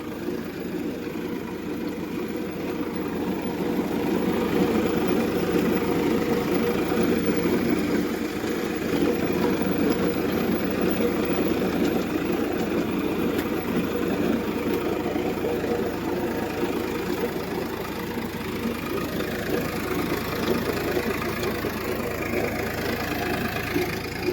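A steady tractor engine drones close by while digging a water-filled field, a continuous low rumble with a faint knocking texture, running without pause and no voices.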